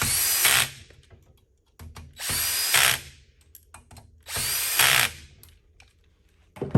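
A power drill tightens bolts while a Detroit desk is assembled, with three loud, close whirring bursts of about a second each separated by short pauses.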